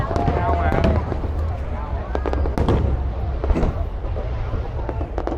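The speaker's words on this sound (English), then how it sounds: "See if I can get us a better view of this fireworks show." A New Year's Eve fireworks show over the riverside in Saigon sends out repeated sharp bangs and crackles at a moderate distance, over a noisy crowd murmur and people talking.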